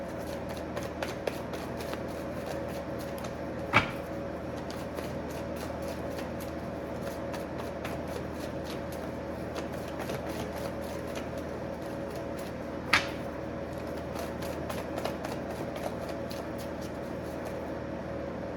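Tarot cards shuffled by hand nearby in a steady run of rapid riffling flicks, with a couple of sharper slaps as the deck is squared.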